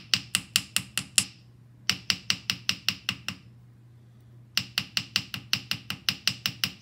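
Ball peen hammer blows texturing a copper leaf on metal, striking in rapid, evenly spaced bursts of about eight taps, each run separated by a short pause, close and crisp.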